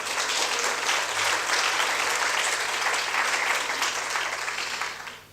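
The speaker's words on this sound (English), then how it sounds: "you should deserve a really extra applause" Warm, steady applause from a symposium audience, a dense even patter of many hands clapping for about five seconds before fading out at the end.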